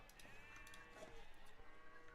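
Sheep bleat in the strategy game Age of Empires II during a 1v1 ladder match, a faint, wavering animal call heard at low volume against soft game ambience.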